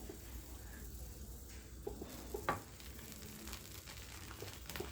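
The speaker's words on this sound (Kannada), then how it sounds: "ನಾಲ್ಕು ಬ್ರೆಡ್ನ ಹಾಕೋತಾ ಇದ್ದೀನಿ" Four bread slices for garlic bread fry in butter in a hot pan, giving a steady, faint sizzle with a few small pops and brief clatters, and no one talking over it.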